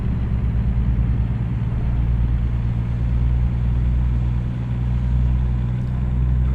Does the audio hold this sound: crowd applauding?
no